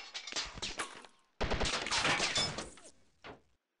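Bursts of rapid automatic gunfire in a Chechnya 2005 combat game, two loud sustained volleys separated by a short pause, followed by a shorter final burst.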